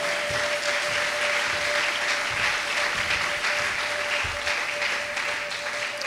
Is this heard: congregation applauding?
yes